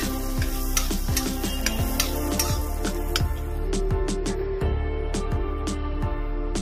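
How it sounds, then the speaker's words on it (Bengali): Dry red chili and whole black peppercorns frying in hot oil with butter, a steady close crackling sizzle with intermittent stirring scrapes throughout and no talking. "দেবো একটা শুকনো লঙ্কা, গোটা গোলমরিচ। এটাকে কয়েক সেকেন্ড ভেজে নেব।"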